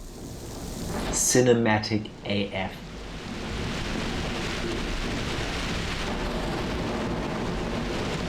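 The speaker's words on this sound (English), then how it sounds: "Thunder at just the right moment." Rumbling thunder over steady, hissing rain in the video game Shenmue; a short burst of speech rides over the storm early on, then rain noise continues evenly to the end.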